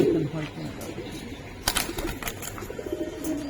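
Pigeons in a loft of giribaz and coloured birds coo softly nearby, mixed with brief flutters and rustling as people talk in the background.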